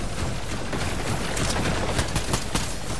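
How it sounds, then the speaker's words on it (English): Pulse rifles in a shooter game fire in a dense, continuous stream of rapid shots, harsh and fairly loud, without any talking. "They're spamming us with the pulse rifles"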